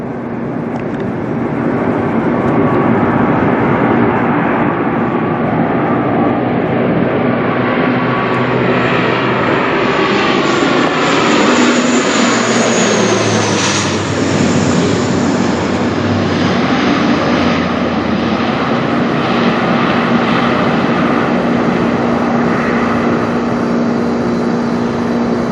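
An Air Canada Jazz Dash 8-400 turboprop passes over near Toronto airport, a loud sustained engine roar that swells and shifts pitch as it goes by, with no voices.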